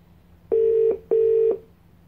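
A Google Home Mini smart speaker plays two identical ringback tones while placing a phone call, each a steady electronic tone lasting about half a second with a short pause between them, clear and close.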